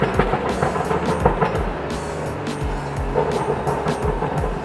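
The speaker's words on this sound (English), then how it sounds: "I could definitely tell it's more of a burble style." A BMW tuned with Bootmod3 gives off a low, rumbling exhaust burble with irregular soft pops and crackles. The rumble is steady and fairly loud throughout.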